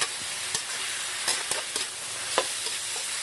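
Mushrooms, baby corn and chillies stir-fry in a hot pan, with a steady close sizzle broken by repeated scraping strokes of a spatula; no one speaks.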